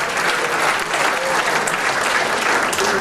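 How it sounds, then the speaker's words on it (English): Dense, steady audience applause, loud and close, continuing without a break. "One more, a nice round of applause for Roger Clare of the Maribel"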